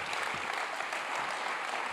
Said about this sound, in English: Can your applause sound like his profile?